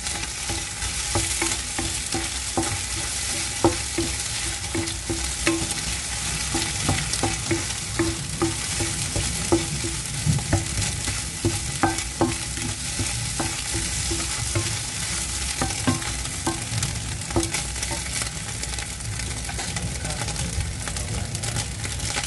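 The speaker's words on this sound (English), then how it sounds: "Here I am just doing the egg scrambled." Egg being scrambled in a pot for Jamaican jerk chicken fried rice, a continuous close sizzle of hot oil broken by repeated scraping and stirring clicks of a utensil against the pot.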